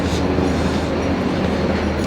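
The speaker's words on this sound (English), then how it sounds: "And then I'm going to jump on the train and head home." A train runs on the rails in Parramatta, Sydney, making a loud, steady rumble and clatter that fills the whole stretch, with no voices over it.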